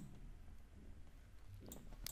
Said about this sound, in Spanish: Doy un clic aquí